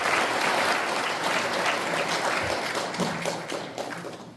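A ceremony audience applauding as guests are introduced at a provisional government anniversary event, a dense, sustained round of clapping that tapers off toward the end.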